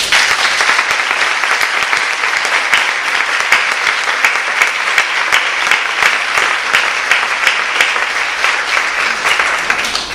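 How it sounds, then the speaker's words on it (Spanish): An audience at an equality education talk gives a dense, sustained round of applause, loud and continuous throughout with no speech over it. "os pediría el primer aplauso para ellas"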